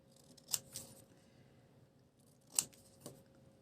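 Scissors cut out a piece of paper for a craft booklet: two sharp snips, a pause, then two more crisp snips in a quiet room.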